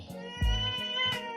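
An adopted cat, one year and two months old, gives a couple of short, fairly close meows, each a brief tonal call separated by quiet moments.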